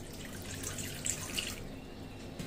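Water poured into an iron pan, a soft, quiet trickle and splash with a few drips, heard close and alone.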